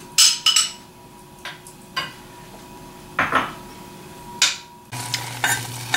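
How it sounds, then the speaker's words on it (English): A utensil stirring blue cheese and sun-dried tomato pesto into cooking cream in a pan, irregular scraping and knocking strokes against the pan over a faint low sizzle, with no speech. "we're simply going to blend in the tomato pesto and the blue cheese"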